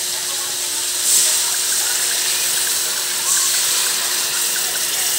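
Water is poured into a hot pan of sautéed sayote (chayote), making a steady rushing hiss with brief louder gushes around the first and third seconds.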